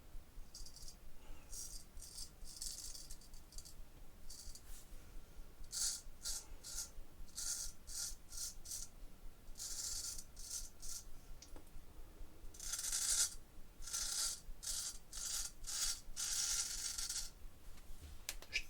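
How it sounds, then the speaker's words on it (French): A straight razor scrapes over a beard during a shave, heard as close, dry, raspy strokes in irregular bursts with short pauses between them, with no talking. "Je te laisse avec le scritch du rasoir."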